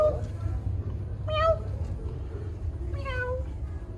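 A cat meows twice, short rising-falling cries about a second and a half apart, heard close over a low background hum in an indoor science center with no talk.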